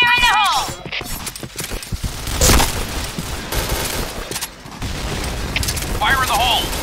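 A grenade explodes in a first-person shooter game with a single loud, booming blast midway, set among gunfire and clattering game effects while players' voices chatter over the top.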